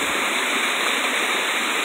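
Water rushes through a creek past a small dam by a fish pond, a dense, loud, continuous hiss and splash with no talking.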